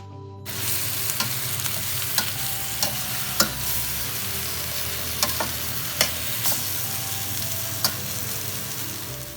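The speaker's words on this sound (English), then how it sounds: "Stir until well combined" Shrimp stir-fried in a hot pan for black pepper shrimp make a steady, close sizzle, with periodic light scrapes and clicks of the utensil stirring through it and no talking.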